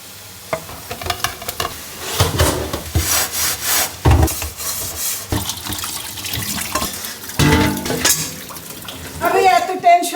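Scrubbing a pile of dishes with Vim dishwashing liquid, rubbing and clattering scrapes with running tap water, close and uneven, with someone talking over parts of it.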